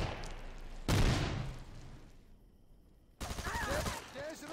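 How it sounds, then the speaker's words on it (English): Bursts of gunfire and grenade blasts from an infantry shooter game tournament match: a sharp loud volley near the one-second mark that decays, a quieter lull, then another dense burst of rapid shots with ringing tones. "Nades have been thrown. Shotgun is being pulled out."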